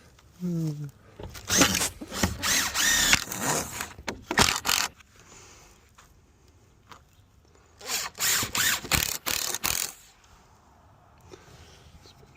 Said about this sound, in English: I'm just using the coated deck screws, so the standard screw.